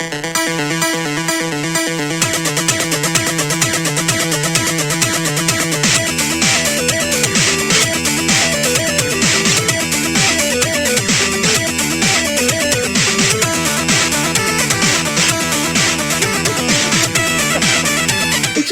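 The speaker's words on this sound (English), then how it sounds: "This is the menu music." Chiptune menu music from the NES game Pictionary, with bright square-wave melody and a bouncy beat, looping steadily with no voices, the busier part kicking in after a short intro.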